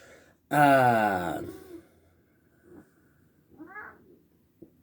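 A loud, drawn-out cat meow with a rising then falling pitch, followed by a few fainter rustles and a short, softer mew.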